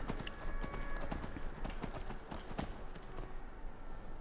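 Horse hooves clopping at a steady riding rhythm in Skyrim, close and fairly quiet, a continuous patter of rapid footfalls throughout.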